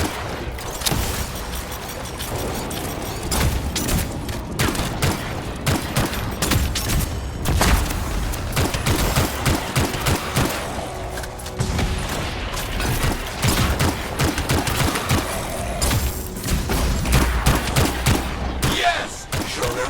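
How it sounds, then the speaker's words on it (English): Dense video-game gunfire from the shooter Anthem fills the scene: sustained rapid automatic bursts mixed with booms and mechanical clatter, loud and continuous throughout. "a lot of gunfire"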